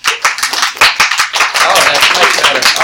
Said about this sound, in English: Thank you for clapping, young man.